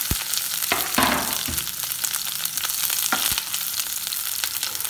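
Mustard seeds crackle and pop in hot oil in a home kitchen pan, a loud steady sizzle broken by sharp snapping bursts, with no talking.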